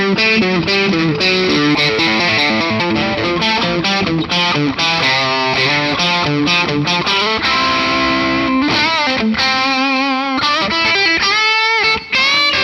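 A 2002 Gibson Custom Shop non-reverse Firebird electric guitar plays a continuous distorted riff with dense chords and single-note runs, loud and unbroken throughout.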